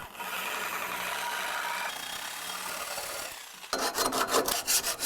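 Metal vise parts being deburred by hand, a steady close rasping and rubbing that runs continuously, then shifts to quicker, rhythmic scraping strokes near the end.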